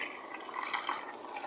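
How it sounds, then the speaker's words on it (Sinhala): Plain water poured into a bowl of homemade cheese pizza dough mixture, a soft, steady trickle with faint splashy drips, close and quiet, with no talking. "මේ වගේ තද රසණියක් නැති සාමාන්‍ය රසණිය වුණ වතුර අරගෙන"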